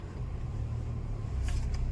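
A car idles and rolls in at a farmhouse, a low steady engine rumble that swells slightly near the end, with a brief brighter noise at the close.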